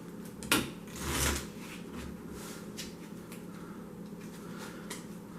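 Playing cards from a One Deck Dungeon tabletop game being shuffled back into the deck: a couple of brief riffling bursts near the start, then quieter scattered card handling with soft taps and no talking.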